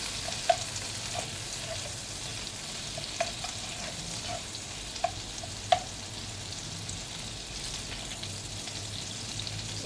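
Salmon seasoned with salt, pepper and lemon juice sizzles steadily in a pan as it fries to golden brown, with a constant crackling hiss and a few sharp pops scattered throughout. No one speaks.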